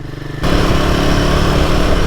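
A Royal Enfield Himalayan 450 motorcycle riding off-road, its engine jumping from a lighter putter to a loud, steady chugging drone up close, with no voices.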